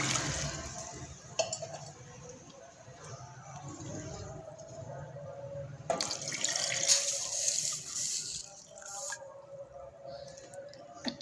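Water poured from a tap or glass into a pot holding 250 grams of chicken for soup, a close, uneven splashing and gurgling with a brief louder burst midway, unaccompanied by talk.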